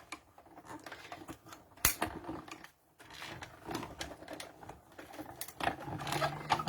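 A hand-cranked die-cutting machine pulls paper and a die through its rollers, giving close, uneven mechanical clicks, creaks and grinding with brief pauses, no one speaking.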